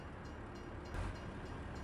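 A train in Farming Simulator 19 rumbling steadily along the track, a continuous low rolling drone with faint rhythmic clatter and a brief louder swell midway, no talking.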